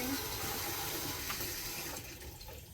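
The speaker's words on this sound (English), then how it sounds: "it's spraying now, in case you're wondering" Water spraying hard from the drain valve of an electric water heater, a steady loud broadband hiss and splash that continues throughout, easing slightly toward the end.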